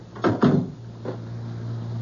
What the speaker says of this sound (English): Close the door, Gus.